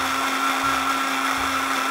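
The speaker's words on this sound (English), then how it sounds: "we're gonna blend it with cilantro, 1/4 cup of cilantro, but we have to do it in batches" A mini Ninja blender whirs steadily while blending a batch of cilantro, a loud constant motor hum with a high whine and no break.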